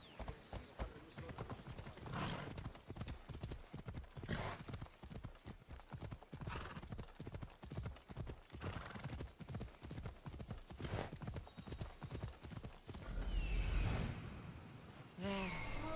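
Horse ridden in the Assassin's Creed video game, steady rhythmic clip-clop of hooves throughout, close and clear, with a breathy snort and whinny near the end.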